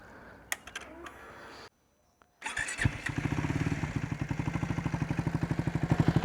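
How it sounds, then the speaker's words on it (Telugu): A Triumph Tracker 400 with twin silencers fires up after a brief pause, then settles into a steady, rapid idle thump through its twin exhaust, close and loud, with clicking handling noises before the start. "సో ఎగ్జాస్ట్ నోట్ ఒకసారి విందాం."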